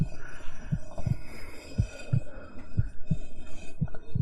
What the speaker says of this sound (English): They're adding a heartbeat to this to sort of like try to make things scary.